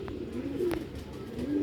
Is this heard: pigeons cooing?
yes